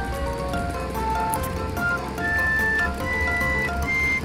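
Car in a video game, apparently a bulldozer-like construction vehicle, with a steady engine drone and melodic chiming tones over a busy game soundscape that runs continuously throughout.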